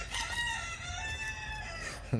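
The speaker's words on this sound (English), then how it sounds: "Big old rooster over there crowing." A rooster crows once in a long, drawn-out call from some distance, with a quieter outdoor background and a brief thump at the end.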